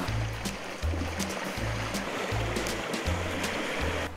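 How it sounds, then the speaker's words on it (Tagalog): Ocean waves wash continuously onto the shore at Burias Island, Masbate, a steady rushing surf with no talking. "yung alon na narinig mo dito dahil sabi ko lang dagat eh"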